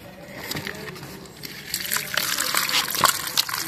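Water gushes and sloshes as freshly caught fish, including magur and koi, are poured out of a container after pond fishing, a few splashy bursts building over the last two seconds with voices faintly in the background.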